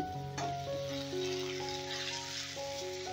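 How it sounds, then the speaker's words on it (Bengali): Pumpkin pieces frying in oil left from bitter gourd, with a little salt added, giving a steady close sizzle that runs throughout beneath soft sustained musical tones. "এবারে ওই তেলেই আমি কুমড়োগুলো ভেজে নেব।"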